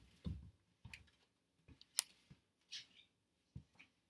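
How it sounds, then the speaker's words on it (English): Paper scissors snip quilt paper pieces in a quiet room, giving a handful of sharp, separate cuts and clicks with short pauses between them. "Let me go grab a paper scissors really quickly here."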